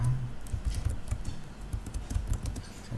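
Fingers tap out an IP address on a computer keyboard in a quick, steady patter of close clicks over a low background hum, with no talking.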